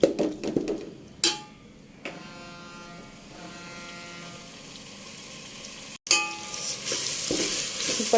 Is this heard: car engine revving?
no